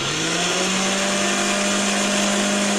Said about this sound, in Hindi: तो चलिए इसको ग्राइंड करते हैं।